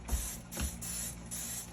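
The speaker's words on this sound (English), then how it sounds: "Let me spray down my bread pan." Cooking spray is misted into a bread pan in short hissing bursts, quiet and close, with brief gaps between them and no talking.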